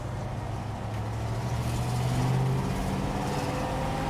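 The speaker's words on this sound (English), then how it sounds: "You can hear the intake shifting into third right now." Steady low engine drone from inside a moving 1965 Ford Ranchero, with a brief rise in pitch as the intake note changes during a shift into third gear.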